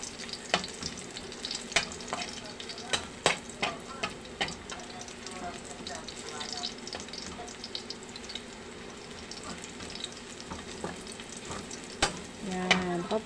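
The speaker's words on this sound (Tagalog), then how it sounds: "magsasangag lang ako" Garlic fried rice sizzles in a hot pan while a utensil scrapes and taps as it is tossed, a steady close crackle with sharp clinks throughout.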